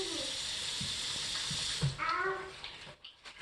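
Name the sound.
water poured into a Vitamix blender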